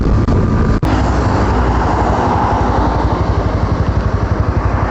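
Motorcycle on a ride from Belgaum to Khidrapur, its engine droning steadily and loud throughout with wind rush, a brief dropout early on, and a pulsing rhythm building toward the end.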